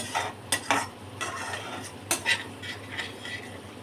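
Prawn curry with coconut milk is stirred in a pan, a handful of distinct spatula scrapes and clinks over a soft sizzle and a low steady hum, close by with no talking.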